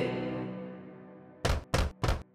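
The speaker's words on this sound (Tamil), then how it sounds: "எனவே அது மீண்டும் குடிசைக்கு சென்று கதவை தட்டியது" Three firm, evenly spaced knocks on a wooden cottage door, struck by a wolf in a fairy tale. They sound close and hollow and follow a fading musical tone, with no voices.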